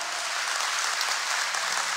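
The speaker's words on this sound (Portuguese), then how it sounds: "Dá uma salva de palmas forte, gente" A church congregation claps together in a thick, continuous wash of applause that fills the room evenly from start to finish, with no voices rising above it.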